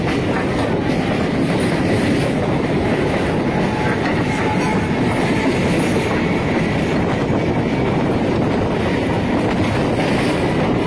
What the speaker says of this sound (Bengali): আমাদের ট্রেন এখন শ্যামনগর স্টেশন থেকে ছাড়লো।